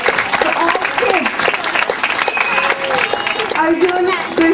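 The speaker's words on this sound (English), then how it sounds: "Big round of applause for all kids" A school annual day audience gives the children a big round of applause, loud dense clapping and crowd noise with cheering voices mixed in throughout.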